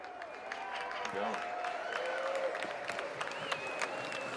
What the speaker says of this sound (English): All right, it's time to start cheering. Let's hear for them. Here they come.